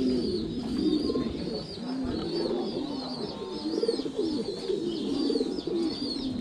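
Fledgling pigeons on a farm coo in a steady, overlapping chorus of soft throaty calls, close and continuous throughout, with no talking.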